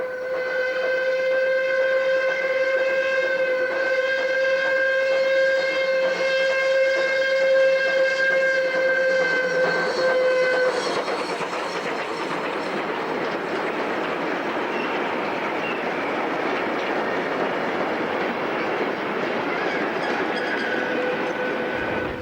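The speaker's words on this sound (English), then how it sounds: "Another visitor from the Rutland Railway Museum is the small Barclay loco named" Small Barclay locomotive named Salmon runs along a heritage railway, a steady loud drone of machinery with sustained whistle-like tones for the first half, then a broad rumbling roar of the train passing close by.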